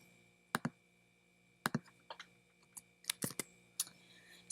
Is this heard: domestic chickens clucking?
no